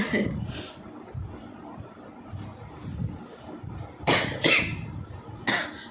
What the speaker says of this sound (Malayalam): ഒരു ചുമ പിടിച്ചിട്ടുണ്ട്